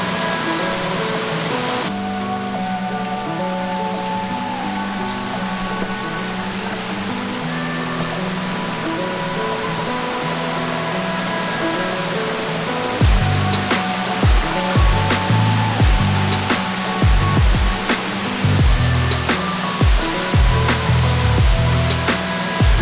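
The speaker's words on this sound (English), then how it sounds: "This one is the Greenland Creek Falls. It's a little bigger than the last one." Greenland Creek Falls in Panthertown Valley, Nantahala National Forest: a steady broadband roar of falling water heard up close, continuous throughout, with a rougher, gustier stretch in the second half.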